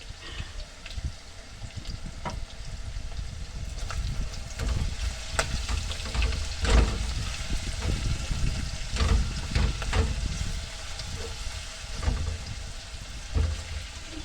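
Small pieces of meat fry with garlic and pepper in a pan, giving a steady, loud close sizzle with occasional stirring clatters and pops throughout.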